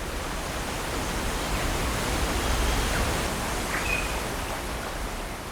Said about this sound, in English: Nokkalikai Falls drop over 300 meters